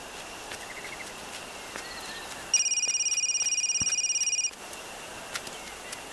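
A phone rings with a pulsed electronic trill lasting about two seconds, clear and moderately loud against an otherwise quiet background.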